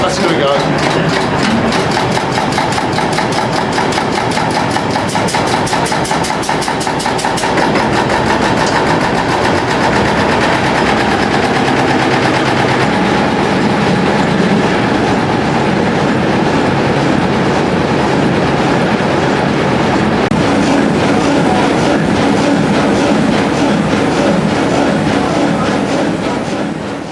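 An old 880-horsepower harbor-duty engine runs with a loud, dense mechanical clatter and a rapid knocking rhythm that stays steady for the whole stretch, with voices faintly beneath it.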